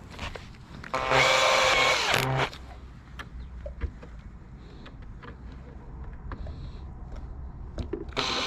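A loud, high-pitched power drill whine drilling into a plastic screwdriver case bursts for about a second and a half, then gives way to quieter handling clatter and small taps.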